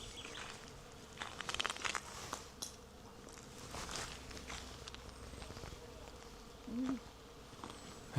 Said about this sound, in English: That's a beehive or something.